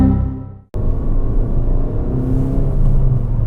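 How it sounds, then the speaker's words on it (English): A Suzuki Swift Sport's four-cylinder engine revs hard, cuts out briefly, then pulls again with a loud, steady, rising drone close inside the cabin, with no talking. "Makes an alright noise for a 4-cylinder."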